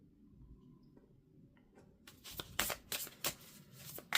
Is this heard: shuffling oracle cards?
yes